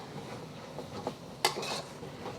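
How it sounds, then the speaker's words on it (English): Ground pork and onion being stir-fried in a wok, with a metal utensil scraping and clanking against the pan in a few irregular knocks, one sharp clack standing out over a soft sizzle. "You can start moving your onion back into the cooking part of the wok."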